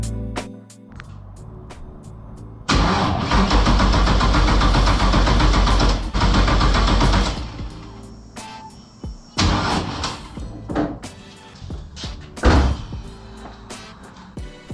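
A Toyota GT86 with a swapped LS 5.3 V8 cranks for several seconds in loud, close bursts without catching, separated by quieter pauses and clicks, with no speech.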